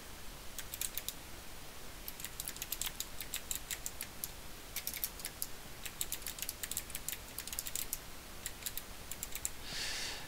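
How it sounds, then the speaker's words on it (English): Someone types on a computer keyboard, quick irregular bursts of soft close clicks with brief pauses, over a quiet steady background hiss and no talking. "Select that heading and type in your own personalized heading."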